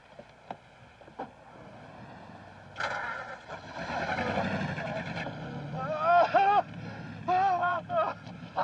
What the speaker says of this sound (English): I start the engine quick